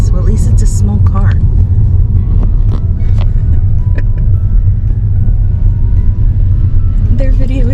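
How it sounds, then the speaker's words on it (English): A small car approaches on a narrow mountain road in Norway, its engine rumble steady and close throughout, with brief clatters and voices talking over it. "so there's a car coming"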